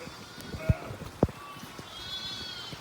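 Sheep bleat in a lambing shed, two short sharp calls close by amid a low background of animal shuffling and further quieter bleats.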